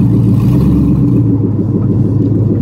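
A Mazda RX-7 FD with an LS V8 swapped in place of its rotary engine rumbles loudly and steadily up close, a deep continuous drone with slight swells in pitch as it revs.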